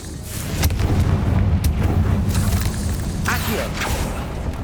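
A Confringo fire spell blast in Hogwarts Legacy booms through steady combat rumble, with a few sharp cracks and a brief whooshing burst riding over the continuous low roar.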